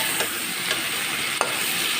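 Shrimp fry in a hot pan with a steady close sizzle, broken by a few soft stirring scrapes, no voices.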